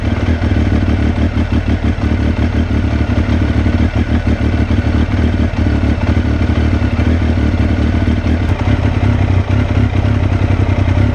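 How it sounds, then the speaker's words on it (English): A Triumph Daytona T595 motorcycle engine idling to warm up before an oil change, a loud, steady, close mechanical rumble with a clattery pulse and no pauses. "Gotta start the engine up as well, get the engine warm"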